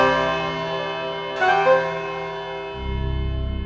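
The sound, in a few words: clock bell chiming the hour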